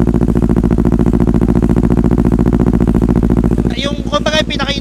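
Kawasaki Ninja 400 motorcycle with a short racing muffler idles with a steady, deep bass-heavy engine pulse that stays loud and close, and a voice talks over it near the end.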